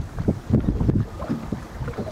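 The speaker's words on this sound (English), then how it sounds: "It's getting pretty windy." Gusty wind buffets the microphone in low, uneven rumbling bursts, with faint water and boat movement underneath.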